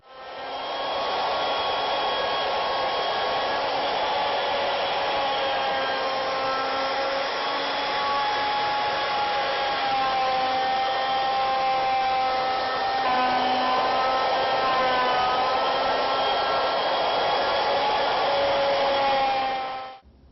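A power tool, apparently a router, makes a plunge cut into wood for a four-poster bed. Its steady, loud motor whine runs continuously for about twenty seconds, with slight pitch shifts partway through, then stops abruptly at the end.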